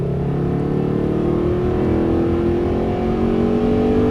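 A Mercedes-Benz SLS accelerates hard at full throttle on a racetrack, its engine note climbing steadily and loud, close up, with no voices over it.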